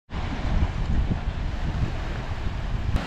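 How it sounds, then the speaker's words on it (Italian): Strong seaside wind buffets the microphone in a constant low roar, with the rushing hiss of rough sea underneath and no voices. "c'è un po' di vento e il mare è mosso"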